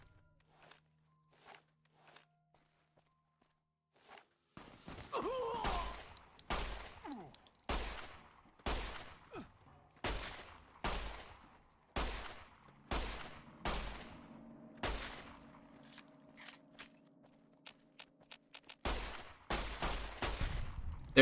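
Pistol gunfire in Fallout New Vegas, a series of about a dozen sharp, evenly spaced single shots with short echoing tails, preceded by a few faint footsteps and softer clicks.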